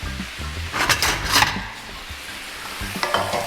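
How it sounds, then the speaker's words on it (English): Garlic and onions are sautéed in bacon drippings with a wooden spoon, giving a steady close-up sizzle broken by repeated scraping, stirring strokes against the pan, with no one talking. "And just saute this around."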